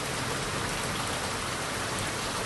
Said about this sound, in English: Yes, it is definitely raining.